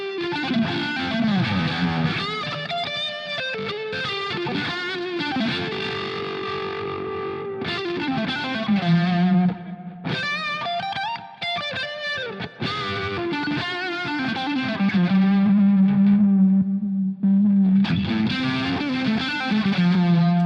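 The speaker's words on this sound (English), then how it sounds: "And I'll put the regular distortion pedal." An electric guitar runs through a regular distortion pedal for a psychedelic blues rock tone, playing loud sustained, bending notes and phrases with a swirling effect, alone without any voice.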